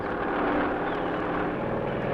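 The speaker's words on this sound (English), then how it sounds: "This helicopter, with a frogman aboard, has been instructed to fly over a coastal area to be cleared of floating mines." A military helicopter flies over a coastal area on a mine-clearing task in 1959, a steady loud engine and rotor drone that holds without a break and has no voices.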